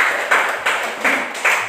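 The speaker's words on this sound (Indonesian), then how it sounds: "Baik, silakan tepuk tangan buat kelompok 1." Classroom applause for a student group, a short patter of a few hands clapping in uneven bursts, fairly close and moderately loud.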